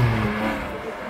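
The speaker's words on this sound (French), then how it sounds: "Départ d'une GT3 RS et d'une 996 GT2 magnifique juste derrière." A Porsche GT3 RS and a 996 GT2 pulling away from a supercar meet: a loud sustained engine roar with a droning low tone that eases slightly over a brief second.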